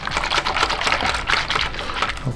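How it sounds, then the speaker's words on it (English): A whisk beats protein powder batter for French toast in a bowl, giving a close, steady run of quick scraping, clicking strokes that continue throughout without pause. "We're gonna take a whisk and we're gonna mix all the ingredients together."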